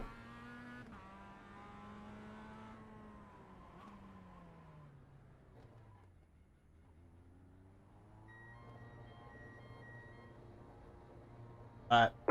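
A race car in iRacing slows into the pits, its engine note dropping steadily as it decelerates, then holding at a low idle hum before a brief sharp burst near the end; a voice talks over it.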